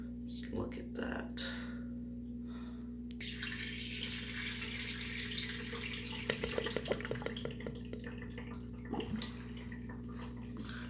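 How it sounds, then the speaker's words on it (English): Water from a bucket pours into a miniature 90s Mansfield Alto toilet bowl, a rushing splash and gurgle that swells midway, with scattered clunks and a voice speaking around it. "Let's bucket flush it throughout."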